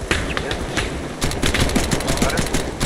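Rapid gunfire from the Arma 3 video game crackles nearly nonstop as sharp, dense shots, with a heavier burst partway through and a voice briefly heard underneath.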